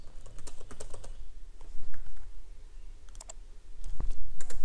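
Keys clatter on a computer keyboard as a message is typed into a medical records interface, in irregular bursts of close clicks with brief pauses between them.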